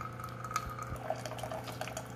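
A used Keurig K-Cup coffee maker on its largest setting dispenses water in a steady, moderately faint stream with small drip-like splashes, heard alone with a low machine hum underneath.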